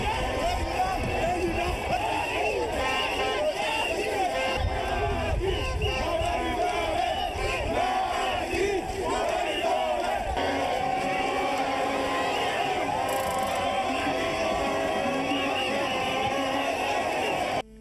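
Large, dense crowd gathered in the streets of Ndioum to welcome President Macky Sall, a continuous loud roar of voices and shouting with a steady din of chatter throughout.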